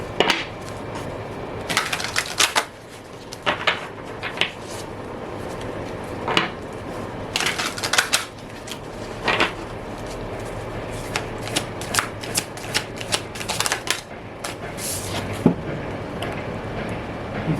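Tarot cards being shuffled by hand in a steady run of crisp riffling bursts and soft slaps, close and fairly loud, with a few light knocks against a surface and no talk.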